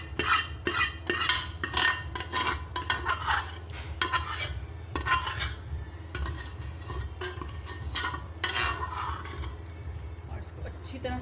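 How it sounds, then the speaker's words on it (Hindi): Spoon stirring ground lentils, shredded beef fibres and korma masala in a cooking pot, with repeated scraping and clinking against the metal over a steady low hum, close and moderately loud throughout. "और इसको अच्छी तरह से मिक्स करेंगे।"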